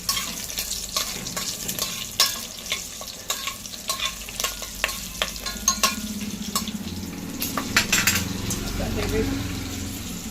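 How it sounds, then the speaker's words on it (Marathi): Four split green chillies sizzling in hot oil and ghee in a pan for pea pulao, a steady close frying hiss with repeated sharp clicks of stirring against the pan, briefly swelling louder near the end. "आता हे आम्ही चार मिरच्या पण टाकते त्या स्प्लिट केलेल्या आहेत मिरच्या"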